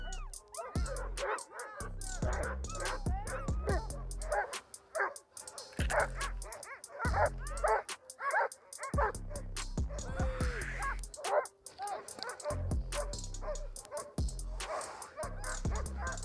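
Doberman Pinschers bark repeatedly at a Doberman Day event with tunnel and jump obstacles, a string of loud close barks and yips mixed with whimpers while people talk in the background.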